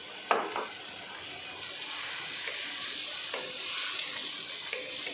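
Tomato sautéing with onion in a pan for crab kabsa, a soft steady sizzle after a sharp initial clatter, with faint stirring scrapes and no talking.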